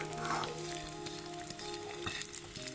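Semolina frying in a pan for panjiri gives a steady, soft sizzle with occasional faint stirring scrapes, close by and fairly quiet with no talk.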